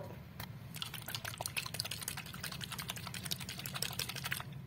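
A homemade pandan leaf essence mixture with vanilla, shaken in a container, gives a steady run of rapid sloshing liquid clicks and rattles, fairly close and continuous with no talking.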